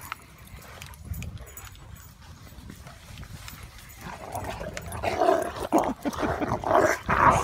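Dogs growl and snarl while playing rough over sticks on a morning walk outdoors, the rumbling growls and yaps growing louder and busier through the second half.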